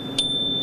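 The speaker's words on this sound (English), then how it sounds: "Nice bell." A bicycle bell gives one bright ding that rings on as a sustained tone, close and clear over faint street noise during a morning bike event in Denver.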